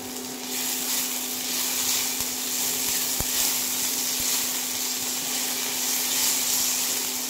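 Tomatoes dropped onto hot oil in a pan for muri ghonto give a steady, moderate sizzle with a faint hum underneath and one sharp click partway through, with no talking.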